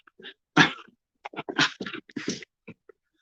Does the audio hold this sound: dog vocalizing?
yes